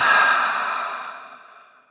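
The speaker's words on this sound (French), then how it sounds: "Et on expire par la bouche." A single long, breathy exhale through the mouth during a gentle post-run recovery yoga session, close and steady at first, then slowly fading away.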